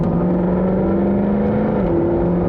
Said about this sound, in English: The pops and crackles on overrun are to die for on this thing.